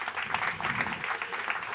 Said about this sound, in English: I was hoping you could join me in a round of applause for the event coordinators and staff